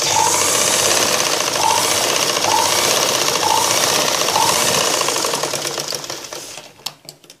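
A sewing machine stitching a blouse runs in a fast steady chatter for several seconds, then slows and stops with a few final clicks.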